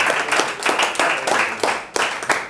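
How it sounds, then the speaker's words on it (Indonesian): A church congregation claps and cheers, a dense wash of applause with rhythmic surges of clapping running steadily throughout, loud and close. "Berikan sorak-sorai buat dia"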